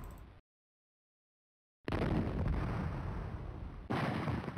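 Cannon sound effect from the video game Stunt Island, heavy booming blasts with a rumbling roar that sustains after a silent gap, then a second blast hits near the end.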